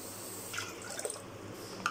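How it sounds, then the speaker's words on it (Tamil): Water poured over one cup of washed lentils for soaking in an Indian breakfast recipe, a faint, steady trickle and light drips lasting under two seconds with no talking. "1 கப் பருப்புக்கு நான் வந்து 2 கப் தண்ணி"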